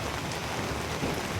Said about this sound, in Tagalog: So, ganyan pa lang yung kalakas yung ulan.